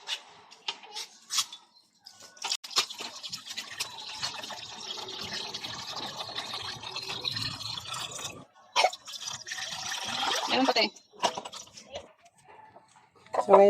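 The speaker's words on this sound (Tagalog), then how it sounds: "So lagyan na natin ng tubig dito guys." Water pours into the windshield washer reservoir of a 1999 Honda Civic in bursts of trickling and filling, faint and close, broken by pauses, with a rooster clucking in the background.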